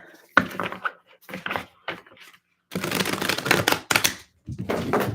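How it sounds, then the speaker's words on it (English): Bursts of tarot cards being shuffled during a reading, close and crisp, coming in several separate clusters with brief silent pauses between them. "some more shuffles for Aries."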